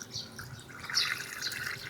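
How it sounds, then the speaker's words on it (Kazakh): Ice-cold water is poured into a pot of boiling meat for a traditional Kazakh dish. A steady, moderately quiet splashing pour runs throughout and swells briefly near the middle, with no voices. "Су аз, мұздай су құям."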